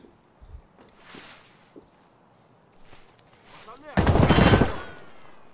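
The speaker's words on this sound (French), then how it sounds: "C'est qui a tiré là?" Gunfire in the video game Escape from Tarkov: faint distant shots and soft movement sounds, then a loud close burst of rapid automatic fire lasting about half a second.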